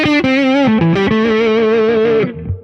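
PRS electric guitar on the middle pickup with volume all the way up, a short slightly driven lick of bending notes sliding into a long sustained vibrato note that fades, played solo and loud.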